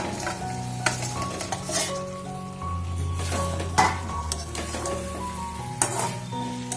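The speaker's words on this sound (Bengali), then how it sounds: "এবার আমি এই যে ধোকাগুলো দিয়ে দেবো" Lentil cakes (dhoka) dropped into fried masala in oil for a spinach dish, a close sizzle with repeated clinks and scrapes of a metal spoon against the pan and a low background hum.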